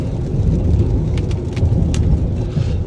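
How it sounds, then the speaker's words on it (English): Heavy rain drums steadily on a Cadillac Lyriq electric car on a wet day, a dense close wash of noise with low rumble underneath and occasional sharper splashes. "It's been raining all damn day."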